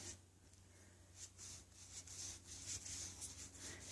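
A cloth rubs wood stain into a wooden surface in circular motions, a faint, soft, repeated swishing friction heard close up with no talking.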